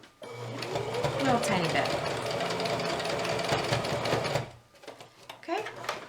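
Sewing machine stitching a double-sided placemat, a fast mechanical chatter running for about four seconds, then a brief short burst as someone talks over the stitching.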